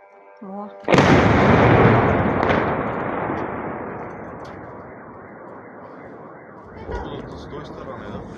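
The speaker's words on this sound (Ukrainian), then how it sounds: "Было два взрыва. Большой огонь горит." A loud, nearby explosion from a drone strike booms and rumbles on for several seconds, then a second muffled blast follows; a voice speaks faintly beforehand.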